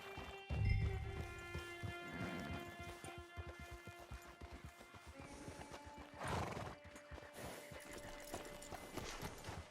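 Horse in Red Dead Redemption 2 gives a loud whinny near the start and again midway, while hooves clip-clop steadily underneath against a background of faint game ambience.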